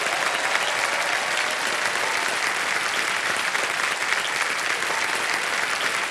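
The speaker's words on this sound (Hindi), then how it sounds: "जोरदार तालियां बज जाए।" Steady, dense applause from a large studio audience on a televised quiz show after a contestant wins prize money, loud and continuous throughout without breaks.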